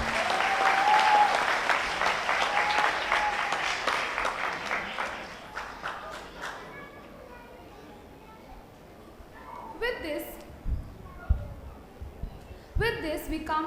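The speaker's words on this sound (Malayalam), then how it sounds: "ഒന്നുകൂടെ കൈയടിച്ചേ" Audience applause at an Onam celebration, loud sustained clapping from a large crowd for about six seconds, then fading to scattered claps and quieter room noise with brief voices.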